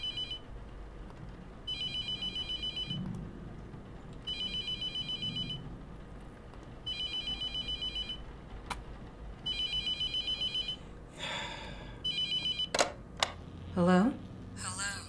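Repeated electronic telephone ringing in the horror game The Mortuary Assistant, four even bursts of trilling rings with pauses between, then broken by clicks and short sounds; voices talk faintly underneath.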